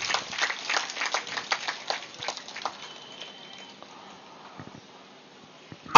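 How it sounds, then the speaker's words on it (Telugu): An audience at a meditation talk claps for Saladi Satyaraju, a thin scattered patter of applause that is brisk at first and then fades to sparse, faint claps. "గట్టిగా చప్పట్లు కొడతాం సలాది సత్యరాజు గారికి"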